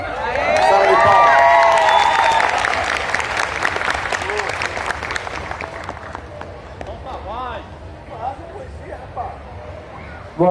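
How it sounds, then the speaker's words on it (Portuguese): An audience at a book fair talk bursts into loud applause and cheering that gradually thins out, with crowd chatter and voices coming through as the clapping fades. "Salve de palmas."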